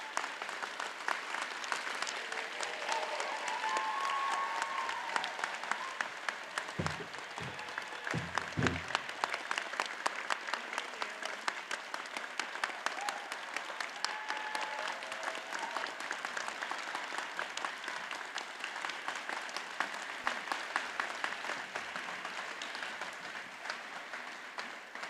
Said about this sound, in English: And let's have another round of applause.